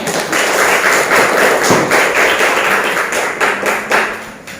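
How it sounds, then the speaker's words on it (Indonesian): Classroom students clapping for a presenting group, a dense, loud, continuous patter of many hands that swells and then thins toward the end, close by and with no talk over it. "Boleh kasih dulu tepuk tangan kelompok 1"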